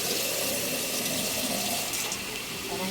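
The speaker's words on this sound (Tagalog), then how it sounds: "Tapos, lagyan natin ng konting tubig." A little water runs steadily into a pan of pinakbet being cooked, a continuous close splashing pour from start to finish.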